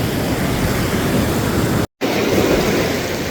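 A clear natural stream in dense forest rushes continuously and fairly loudly over stones, with a brief moment of silence partway through.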